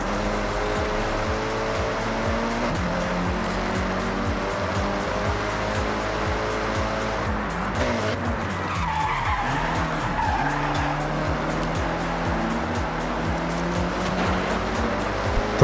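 Car tires skid and squeal continuously while drifting in Forza Horizon, a loud, sustained screech over a revving engine whose pitch rises and falls with gear changes, with no talking.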